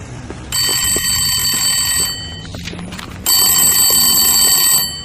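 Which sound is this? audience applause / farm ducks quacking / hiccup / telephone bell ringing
telephone bell ringing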